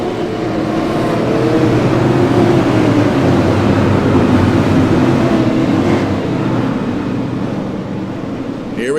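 Steady, dense drone of many race car engines in an esports racing game at Southern National Motorsports Park, loud and continuous throughout as a pack circles behind a pace car.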